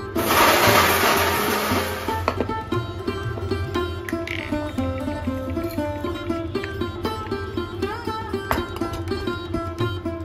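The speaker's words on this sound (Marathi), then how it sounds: "मिक्सरच्या भांड्यात 1 चमचा साबूत धने, 1 चमचा जिरं आणि सुक्या लाल मिरच्या टाकून थोडं जाडसर वाटून घेऊया।" A mixer grinder coarsely grinds whole coriander seeds, cumin and dried red chillies, giving a loud, dense whirring roar for about two seconds before it cuts off and background music carries on.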